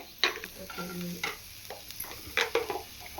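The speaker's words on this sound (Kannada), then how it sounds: "ಇದಿಷ್ಟನ್ನು ಡ್ರೈ ರೋಸ್ಟ್ ಮಾಡ್ಕೊತಾ ಇದ್ದಾಳೆ" Ginger, garlic and green chilies are dry roasted in a pan, with a spatula stirring and scraping in uneven bursts over a light sizzle, close by and with no voices.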